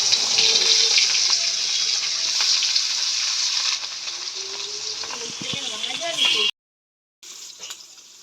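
Fish being fried in hot oil, a steady close hiss and sizzle that holds throughout, briefly cutting out near the end.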